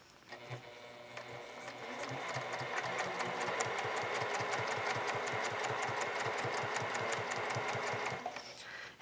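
Domestic sewing machine doing free motion quilting along a ruler, running in a steady fast stitching rhythm for most of the stretch, close and fairly loud, with no talking.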